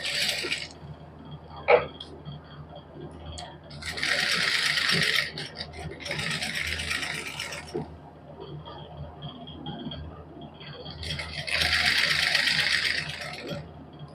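Sewing machine stitching fine lace onto suit fabric, heard in three separate bursts of fast rattling stitches with quiet handling noises and a clack between them, close and moderately loud, no talk.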